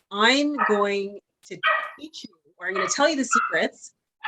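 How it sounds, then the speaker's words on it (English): A dog barks and yips in the background of an online marketing course session, several short barks that come and go around a person speaking close to the microphone. "You might hear my dog barking."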